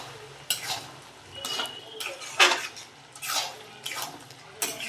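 A spoon scrapes and stirs garam masala and a pinch of sugar into an egg and banana flower curry in a pot, giving soft, quiet, repeated scraping strokes with light clinks and no talking.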